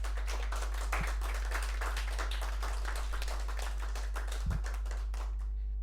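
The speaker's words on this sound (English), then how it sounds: "Please give a round of applause for Perry and Jane." A talk show audience applauds guests onto the stage. Dense, steady clapping goes on for several seconds at an even level and is cut off abruptly at the end.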